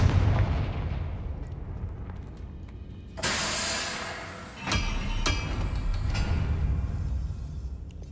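Confringo blasting spell explosions in Hogwarts Legacy, two sudden booming blasts a second or so apart, each with a loud crack and rumbling decay over a low game backdrop.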